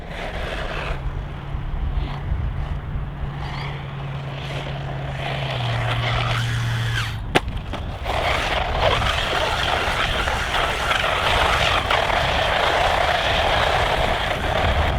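A ZLL Beast Max RC car running on a 2S Li-ion battery whines steadily as it drives, its motor pitch rising and shifting through the run, with a brief sharp click midway and a loud sustained buzz afterward.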